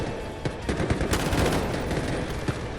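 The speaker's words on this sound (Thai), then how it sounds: "กระสุนมันลั่นไวเกิน" SG552 rifle in the Delta Force video game fires a sustained rapid burst of gunshots, loud and dense across the whole span, with no talking.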